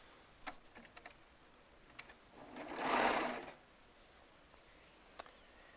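Baby Lock Triumph serger stitching quilt rows together: a brief whirring burst of stitching lasting about a second, surrounded by quiet clicks and handling of fabric.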